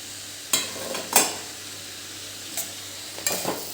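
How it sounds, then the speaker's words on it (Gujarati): Boiled noodles are mixed into spring roll filling in a pan, with a few scraping stirs over a steady low sizzle, close and moderately quiet. "આને પણ મિક્સ કરી લેવાનું છે"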